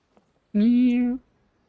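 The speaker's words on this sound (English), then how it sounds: "the soft meow of the cat." Cat in the video game Genshin Impact giving a single soft, short meow, clear and alone against near silence.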